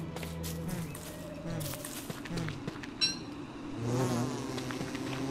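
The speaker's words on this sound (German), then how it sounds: "Biene? Ah, hallo Biene." A bee buzzes in the Don't Starve video game, a faint wavering drone running under background game sounds and music.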